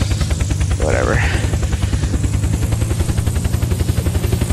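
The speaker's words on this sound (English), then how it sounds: "We should destroy that other helicopter." A helicopter in the video game Unturned thrums with a fast, loud, steady rotor chop and low engine drone throughout, while a person speaks briefly over it.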